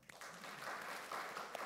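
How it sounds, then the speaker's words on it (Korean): Members of a congregation at a church service applaud, giving a short, faint, steady patter of many hands clapping in a reverberant room. "아멘. 박수."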